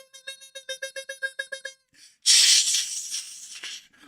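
A cash-register style ding-ding bell effect: a rapid run of about a dozen bright, evenly spaced chimes, then a burst of hissy, rattling noise, all fairly quiet.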